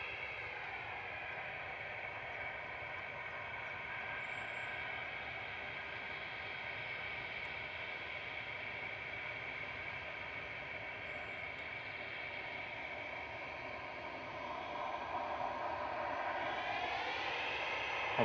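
An Airbus A350-900 arriving from Geneva at Manchester Airport gives a faint, distant, steady engine whine that holds for a long stretch, then swells and rises in pitch near the end as it draws closer.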